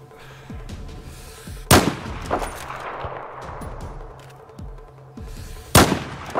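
Gunfire in the video game Battlefield 4: a couple of loud, sharp shots stand out over scattered lighter pops and distant battle noise, with no talk over them.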